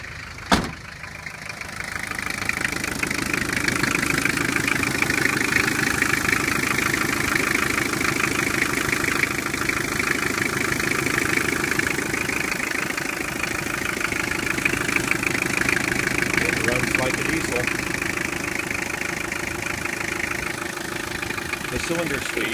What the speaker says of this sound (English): let me start it up and give you a shot of it running here